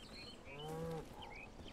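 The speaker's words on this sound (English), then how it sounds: "Moo! Moo! Hi, cow." A cow moos once in the video game Atomic Heart, a single low, drawn-out bellow lasting about half a second, faint and heard over quiet ambient insect and bird chirps.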